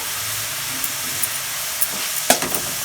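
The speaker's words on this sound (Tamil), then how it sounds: "சின்ன வெங்காயத்தை நல்லா வணக்கிக்கலாம் கொஞ்சம் கருவேப்பிலை போட்டுக்கிறேன்" Small onions and curry leaves sauté in a pan for duck gravy, making a steady, close sizzle with light spoon taps and one sharper knock near the end.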